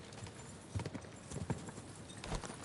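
Rhythmic hoofbeats of a horse clip-clopping at a walk in the medieval game Kingdom Come: Deliverance 2, several distinct thuds over a steady ambient bed, moderately close and fairly quiet.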